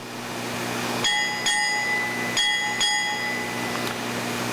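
A ship's bell is struck four times in a naval ceremony, two pairs of ringing strokes with the tones hanging in the air over a quiet room.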